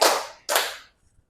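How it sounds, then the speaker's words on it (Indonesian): Two sharp, loud bursts about half a second apart ring out alone, the whole class clapping in unison on a teacher's count during a chemistry lesson on acids and bases, followed by quiet. "Tepuk 1. Tepuk 2."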